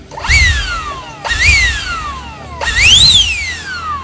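A small battery-powered Jet Fan Turbo LXT jet blower revs up three times, each burst a rising high whine that peaks then slowly winds down, loud and close.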